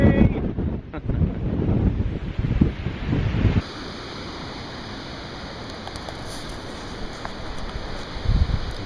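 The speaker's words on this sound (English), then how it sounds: "It is a little bit windy." Gusty wind buffets the microphone on a riverside walk, a loud rumbling roar for the first few seconds that then drops to a steadier, quieter outdoor wash before another brief gust near the end.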